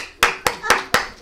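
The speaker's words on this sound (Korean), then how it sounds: "박수 쳐줍시다." Four sharp, evenly spaced hand claps ring out in a steady beat during a Korean church service, close and distinct with brief quiet between them.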